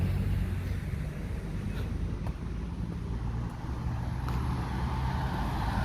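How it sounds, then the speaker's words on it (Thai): Road traffic rumbles along a street beside an outdoor stage, a continuous low engine and tyre drone with wind noise, steady and fairly close, with no voices. "ขึ้นชื่อว่าถนนก็จะมีรถสัญจรอยู่ตลอดเวลา"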